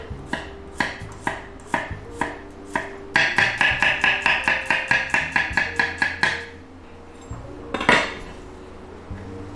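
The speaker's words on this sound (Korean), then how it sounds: "다음으로 마늘을 잘라주도록 하겠습니다" Garlic cloves are cut with a knife on a board: a few spaced chops, then a fast run of a dozen bright, ringing knocks, a pause, and a last pair, all close and loud with no talking.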